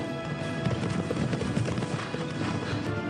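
Racehorses galloping at full pace in a race with Secretariat and Sham, a loud continuous drumming of hooves with a neigh, steady and dense throughout, with a faint voice under it.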